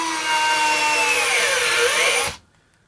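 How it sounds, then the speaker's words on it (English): A battery-powered Dremel screwdriver, a rebadged Bosch Go3 with push-to-run start, whirs steadily and loudly as it drives a screw, its motor pitch sagging under load before cutting off abruptly near the end. "The next one that we're going to go with is the Dremel, which is actually kind of the Bosch Go3."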